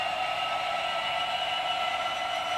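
A Class 66 model locomotive runs along a model railway track, giving a steady, even mechanical hum with a bright whirring tone that holds unchanged throughout, with no talking.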